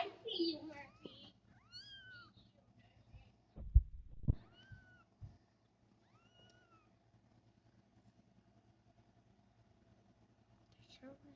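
Newborn kittens cry with several thin, high mews in the first seven seconds, faint and close, followed by near silence.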